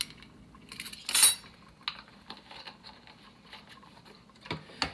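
Utensil stirring rice pudding ingredients with sugar and vanilla in an Instant Pot, giving a loud metallic clink of spoon against the pot followed by softer scattered scraping taps.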